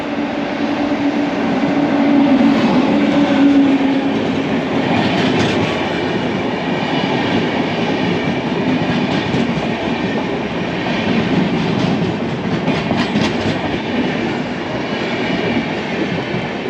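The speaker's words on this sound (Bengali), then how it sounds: "তো এখানে ওই 12:30 নাগাদ ট্রেনটা আসবে।" A Jammu Tawi Express train rolls into a station, its loud, steady rumble and rattling wagons continuing throughout with faint wheel squeal, no voices heard.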